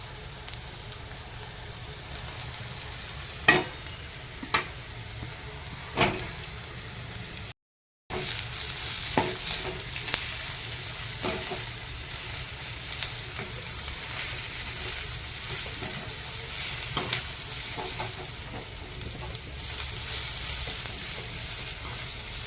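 Onion and wild bharangi greens from the Konkan sauté in a hot pan, a constant close sizzle with a few sharp utensil taps early on, then continuous stirring under the frying.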